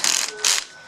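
Ratchet-style mechanical clicking while screws are spun on a patio door lock, two short close bursts.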